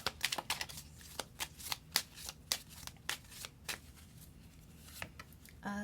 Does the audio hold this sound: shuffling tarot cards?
yes